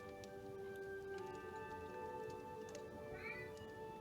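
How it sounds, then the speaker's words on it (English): A cat meows indoors several times, faint and fairly distant, its tonal cries rising and bending against a quiet room background with a steady electronic hum. "Oh, it's your cat."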